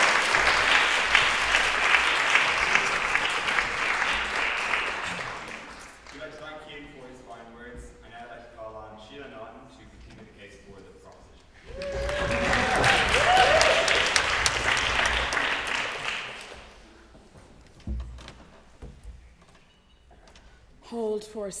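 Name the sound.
audience applause after a debate speech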